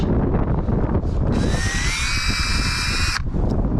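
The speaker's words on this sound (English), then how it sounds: "So basically I just went in here, drilled out the hole, centered it, drilled out the hole." A power drill with a 1-inch hole saw cutting a hole for mounting a 12-volt outlet in a Tesla Model Y front trunk, a rising whine that lasts almost two seconds over steady low background noise, close and loud.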